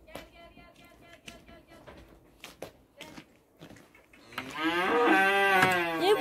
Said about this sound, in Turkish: Evet, artık inekler de bakılmış oldu.